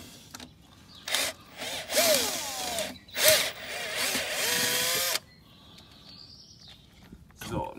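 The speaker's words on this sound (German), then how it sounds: "Stellen wir den Schrauber eben um." A power screwdriver works on a Fendt 200 Vario tractor in a series of short, close whirring bursts with rising and falling pitch, some lasting a second or more, between quieter pauses, with people talking nearby.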